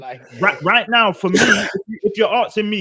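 A single sharp sneeze bursts out in the middle of a man's casual conversation, with his speaking voice continuing on both sides of it.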